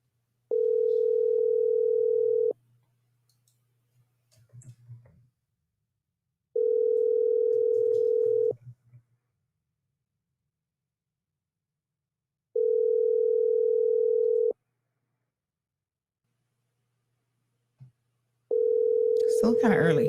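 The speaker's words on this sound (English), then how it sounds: "Let's give him a call via WhatsApp." Ringing tone of a WhatsApp call: four evenly spaced two-second steady tones with long silent gaps between, faint rustling between the tones and a voice starting at the end.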